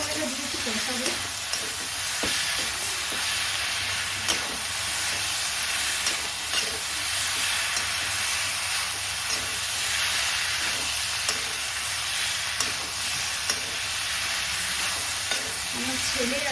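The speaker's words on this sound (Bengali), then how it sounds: "দিয়ে আদা রসুন বাটাটা দিয়ে একটু কষাবো" Ginger-garlic paste and spices sautéing in a pan, a steady broadband sizzle with scattered scraping stir clicks running continuously and close, with no voices.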